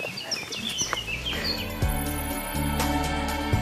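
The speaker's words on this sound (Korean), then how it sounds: "아, 진짜 새소리가" Birds chirp and call in short bright bursts over a low steady rumble on the Path of the Gods cliff trail above the Amalfi coast, fairly faint and somewhat distant, with no talking.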